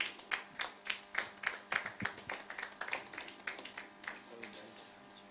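Sparse, distinct hand claps from a small audience at a technology forum welcome a guest, a fairly quiet, uneven rhythm of single claps that gradually thins out while a voice murmurs nearby.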